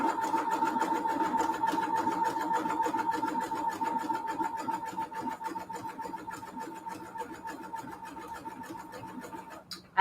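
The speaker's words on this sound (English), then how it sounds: "I just started sewing" Sewing machine stitching a junk journal, a rapid steady mechanical chatter at close range that runs continuously and fades slightly near the end, with no voices.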